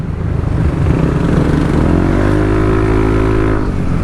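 A Suzuki Raider motorcycle fitted with a VMAX power pipe exhaust runs loud and close, its engine drone rising in a steady rev before settling into an even, rumbling tone.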